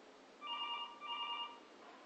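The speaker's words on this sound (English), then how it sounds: "It was a long time before that phone rang again." A telephone rings twice in a steady double burst. The bell tone is electronic and quite faint, with nothing else heard around it.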